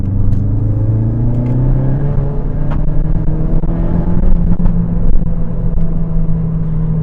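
Mountune m520 Ford Focus RS, a 520hp hot hatch, pulling hard in third gear to overtake on a 60 limit road, its engine a loud, steady rising drone heard from inside the car with no talk.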